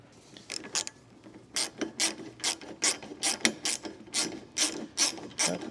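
A hand ratchet clicks in quick bursts as a bolt on an aftermarket light mount is run in by hand, a dozen or so sharp close strokes with short pauses between.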